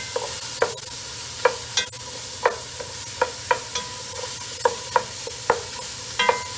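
Cajun-seasoned gumbo ingredients browning in a pot, a steady low sizzle broken by repeated sharp stirring scrapes every half second or so, close and fairly quiet, with no talking.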